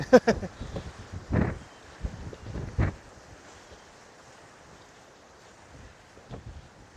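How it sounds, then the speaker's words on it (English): Soft, washing ocean surf rolls onto the shore at Ponta Delgada, São Miguel, Azores, under gusty wind ahead of Hurricane Gabrielle, with a few louder splashes early on before settling into a quieter hiss. "This is relaxing, you know, waves."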